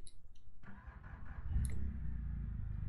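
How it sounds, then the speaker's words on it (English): A car engine in a video game cranks with a few clicks, then catches and settles into a steady, low, rumbling idle that carries on alone to the end. "It's on. It's kind of idling."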